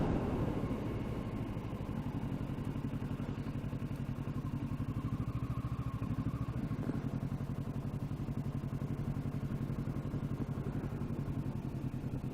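A Kawasaki Ninja 650 motorcycle engine drones steadily and loudly from onboard, a continuous mid-range rumble with wind noise as the bike rolls toward a parking lot, with no talking.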